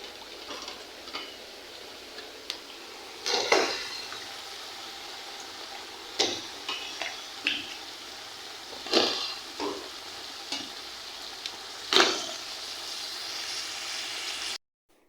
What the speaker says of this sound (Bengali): এখন এই মূলাটা আমি দিয়ে দেবো।